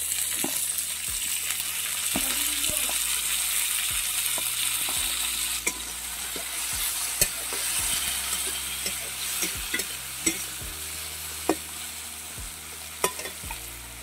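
Chopped tomatoes hit a pan of lightly fried onions for a cauliflower and peas dal, giving a steady close sizzle with repeated scrapes and knocks of stirring throughout, no voices.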